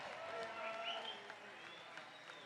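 Applause and crowd noise for IAIA 2023 graduates at a spring powwow, soft and somewhat distant, a steady patter of clapping with some cheering mixed in.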